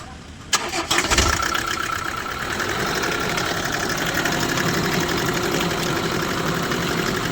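A Kia Bongo III Euro 4 truck with a lit check-engine light and a stalling fault cranks briefly and catches, then settles into a loud, steady idle.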